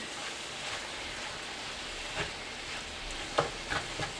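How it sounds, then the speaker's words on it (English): Taco beef browning with packet seasoning in a frying pan, a soft continuous sizzle with a few spoon scrapes and clacks near the end, no voices. "You're just going to stir this up until your food becomes brown"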